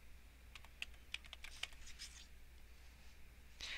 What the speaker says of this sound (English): I'm going to type in the email of someone that I'd like to share it with